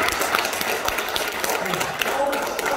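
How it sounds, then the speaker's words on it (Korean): Warm applause from an audience at a Gyeongsangnam-do political rally launching a committee to protect small business owners, steady clapping filling the room with a voice faintly underneath. "정말 진일보하는데 이 중에서 뜨거운 박수."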